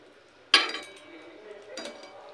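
Pieces of fried pabda and shingi fish go into boiling curry in a pan: a sharp metallic clink, then a soft bubbling simmer, then a second lighter clatter as more fish is added.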